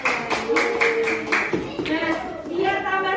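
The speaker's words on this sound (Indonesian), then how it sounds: "Tepuk tangan buat tim sukses matematika." Children in a classroom clap in quick, rhythmic unison to cheer the maths team, with voices chanting and talking over the steady claps.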